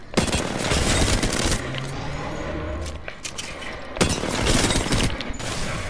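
Bursts of rapid gunfire at a firing range, loud clustered volleys near the start and again around the four-second mark with sharp cracks in between, over a steady noisy background.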